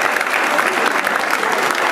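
A studio audience applauds loudly and steadily for a named guest on a Dutch television show, a dense wash of clapping that fills the whole moment without pause.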